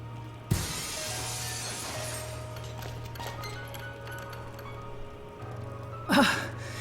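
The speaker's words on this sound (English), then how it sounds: "let's cross our fingers that the seat cover absorbs the noise of the breaking glass" Glass shatters in the Dead Synchronicity video game, a sharp crash near the start followed by a low steady game hum and faint tones, with a second bright burst of breakage near the end.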